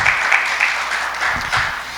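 A church congregation applauds in a steady, moderately loud burst of clapping across the room, with no voices over it.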